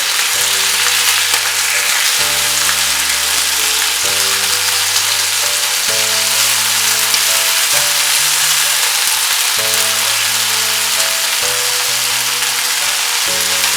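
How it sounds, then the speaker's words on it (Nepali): Tomatoes cook uncovered in a pan for Nepali mushroom choila, giving a continuous close sizzle and crackle of frying throughout, with no talking. "1 मिनेट भएपछि यो टमाटरलाई म यसरी पकाउँदै छु"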